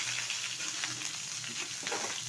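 Ingredients for shapla shukto, a water lily stem dish, fry in a pan with a soft, continuous sizzle and light stirring scrapes, fairly quiet and without voices.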